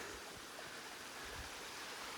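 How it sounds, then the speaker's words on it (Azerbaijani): Waterfall in Qabala, Azerbaijan, heard as a steady, dense rush of falling water filling the whole moment without a break, moderately distant and unbroken by voices. "Artıq şəlalənin"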